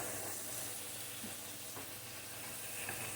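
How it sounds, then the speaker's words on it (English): Vegetables sauté and brown in a hot pan for curry chicken, a steady close sizzle and crackle of frying with faint stirring throughout, no voices. "Especially when you're sauteing like this or browning."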